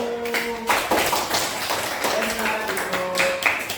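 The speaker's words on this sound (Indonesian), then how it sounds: "beri tepuk tangan untuk kelompok 1" A classroom of students applauds a student group in a short burst of scattered clapping and tapping, with talk around it.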